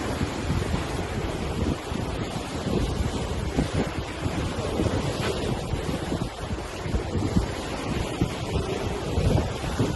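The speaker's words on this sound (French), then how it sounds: "Je sais, il y a du vent, mais j'avais pas le choix." Strong wind buffets the microphone over the steady roar of ocean surf on a beach at Koh Larn island near Pattaya, Thailand, with no break in the noise.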